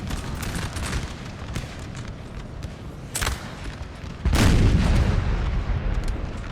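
A 12-pounder cannon fires in the Napoleon Total War 3 Battle of Lapua (1808). Distant battle crackle gives way to a sharp boom, then a heavier blast that leaves a loud, sustained rumbling roar.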